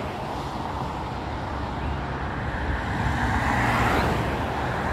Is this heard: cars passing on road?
yes